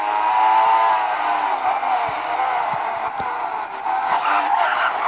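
A Formula 1 race car in F1 2016 brakes hard, its engine roar dropping as the tyres skid and squeal, loud and continuous with no pauses.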